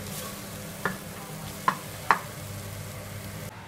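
Masala being stirred into rajma in a pan, a few sharp spoon clinks against the pot over a low, steady background hiss, sparse and close.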